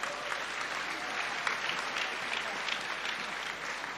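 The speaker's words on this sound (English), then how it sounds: "Can we give a round of applause for all the winners thus far?" Steady applause from a sizable crowd, dense and continuous clapping at an even level throughout.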